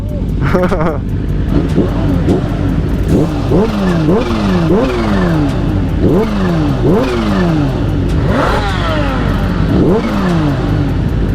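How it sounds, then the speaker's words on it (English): Loud supercharged Kawasaki Ninja H2 motorcycle engines revving repeatedly on a street, rising and falling in sharp bursts, close by and continuous, with voices faintly underneath. "we got two supercharged motorcycles running the streets"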